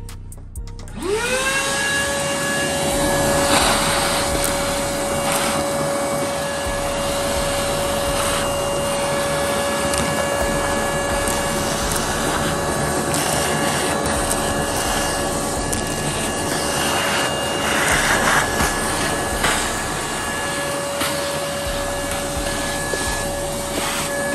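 A Monte Carlo SS cowl panel and blower motor get sprayed with VHT paint, a steady, loud airy hiss holding without break from near the start, with a constant high tonal whine running beneath the spray throughout.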